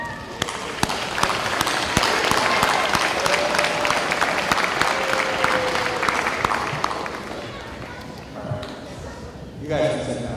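A large audience at a university honors convocation claps steadily for family and friends, a dense sustained applause that tapers off near the end, with a few voices and shuffling underneath.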